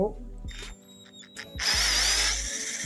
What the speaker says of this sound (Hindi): तो हम सबसे पहले कॉर्डलेस से ये एक चूड़ी वाला बिट लेकर हम इससे चूड़ी डालते हैं।